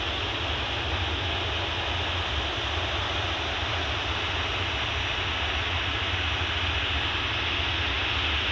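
A Ryanair Boeing 737-800 jet taking off from the airport bound for Charleroi, a broad continuous roar of engines, loud and steady from start to finish with no voices.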